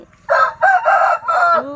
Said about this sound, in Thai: เสียงไก่กระขันพ่อไก่